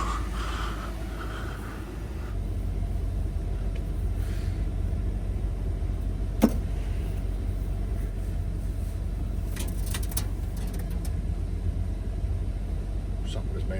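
A diesel engine idles in a winter parking lot as a steady low rumble through the whole stretch, with one short sharp click and faint scattered noises on top.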